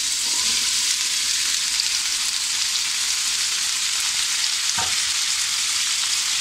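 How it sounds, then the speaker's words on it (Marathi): Cauliflower florets and potato pieces stir-fry in hot oil over medium heat, making a steady, loud, close sizzle with a single sharp scrape of the spoon near the end; no one speaks. "आपल्याला लाल कलर येईपर्यंत असं परतून घ्यायचं आहे फ्लावर आणि बटाटा"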